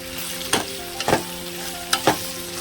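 Broad bean and tomato curry stirred in a pan: a steady close sizzle with four distinct scraping stirs, two pairs spaced about a second apart, and no voices.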